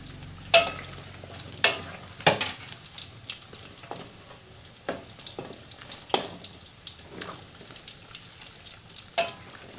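Fish frying in hot oil until golden, a steady soft sizzle with occasional sharp pops and spatters from stirring or turning, close and fairly quiet.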